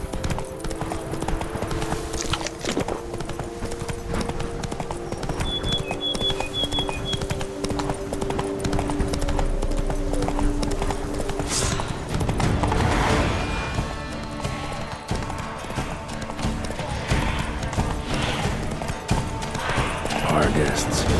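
Roach the horse gallops in The Witcher 3, her hooves drumming in a steady, rapid clip-clop close by for the whole stretch, with an occasional whinny and game voices talking over the hoofbeats.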